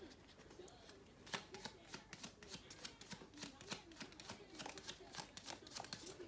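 An oracle deck of Bob Ross cards is shuffled, a quick run of crisp riffling flicks and slaps, close and fairly quiet, with a faint voice in the background.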